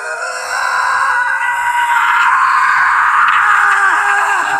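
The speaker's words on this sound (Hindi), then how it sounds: "एक तेज रूह कंपा देने वाली चीख जो सन्नाटे को चीरती हुई उसके कानों में घुस जाती है" Piercing, prolonged scream of a woman as a horror story sound effect, loud and close, a shrill wavering wail that rises and holds for several seconds, alone without talk.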